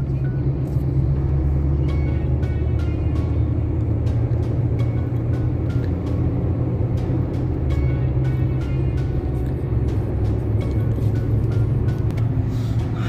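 Busy city traffic in Qatar rumbles steadily in the background, a continuous low drone of passing cars and buses with occasional faint clicks, no talk.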